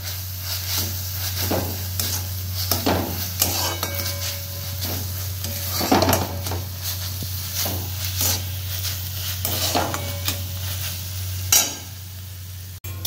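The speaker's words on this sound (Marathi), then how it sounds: "कांद्याचा ब्राऊन झाला आहे, तर अजून तुम्हाला थोडा परतून घ्यायचा आहे, थोडा अजून ब्राऊन करून घ्यायचा आहे।" Onions fry and are stirred in a pan for a tomato bhaji: a steady sizzle runs underneath while a spoon scrapes in regular, rhythmic strokes, close and clear, with no talking.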